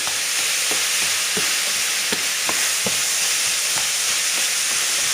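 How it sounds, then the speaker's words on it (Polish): Steady sizzling hiss of minced beef frying in a pan outdoors, with occasional soft clicks of stirring or scraping throughout. "Teraz to będziemy smażyć 10-15 minut."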